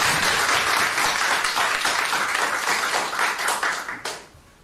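A church congregation applauds during a Sunday Ascension service, dense steady clapping from many people that fades out near the end.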